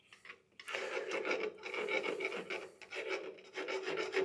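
A small triangular hand file scrapes the burr off a metal spacer spinning on a lathe, a steady close rasping rub in continuous strokes with no talking.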